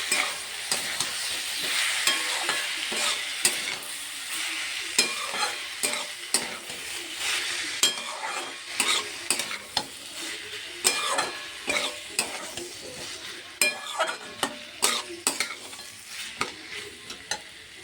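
Rice and yogurt frying in a pan over low heat, a close steady sizzle broken by repeated scrapes and clinks of a spoon stirring, with no talk.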